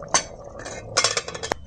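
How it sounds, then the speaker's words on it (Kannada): A metal pressure cooker lid being closed over egg biryani: a sharp clink, then a cluster of rattling metallic clatters and a final bright clank, close and fairly quiet. "ಇವಾಗ ಲಿಡ್ ಕ್ಲೋಸ್ ಮಾಡ್ಕೊತಾ ಇದ್ದೀನಿ"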